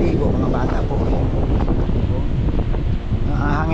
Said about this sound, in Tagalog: Ang hangin po napakalakas.